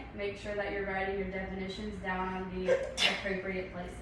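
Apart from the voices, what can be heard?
sneeze in classroom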